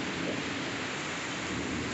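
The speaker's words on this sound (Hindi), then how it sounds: "देखो कितना तेज बारिश हो रही है।" Heavy rain in Jabalpur, India, a dense, loud and steady downpour roaring close by, with a low thunder rumble underneath and no voices.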